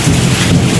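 Steady rain pours down outdoors on a hot day, a brief, dense, even hiss of drops close to the microphone with no voices.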